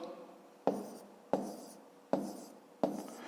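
Four evenly spaced strokes of a pen writing numbers by hand on paper during a division exercise, each a sharp scratchy tap followed by a short scraping trail, close and quiet.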